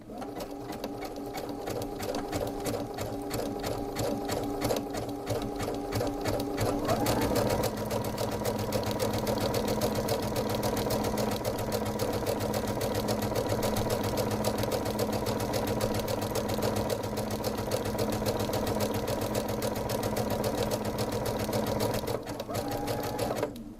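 A Baby Lock sewing machine with an Ultra T foot stitches steadily and loudly, a continuous whirring motor with a fast rhythmic needle chatter that shifts pace partway through, running almost without pause.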